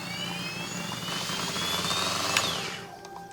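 An RC helicopter with its propellers removed runs on the bench, giving a steady high motor whine with shifting tones and a brief spike near the end, close and continuous with no talk.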